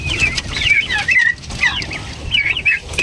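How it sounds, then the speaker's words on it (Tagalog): Small chicks in a coop cheep with high, rapid chirps in overlapping bursts, close and clear, with a faint low background rumble and no speech. "Ito, may mga sisiw dito."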